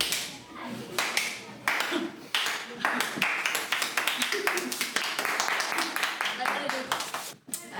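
A group of people clap after an outdoor chat at a peace summit in Crossmaglen, with sharp, uneven claps running steadily close by for several seconds and voices mixed in.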